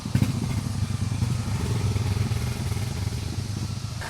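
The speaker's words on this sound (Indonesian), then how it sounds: "Ini ada juga 2 motor lagi yang ke bawah sana." Motorcycles pass on a mountain road, their engines droning and rattling steadily at moderate distance, with no talk over them.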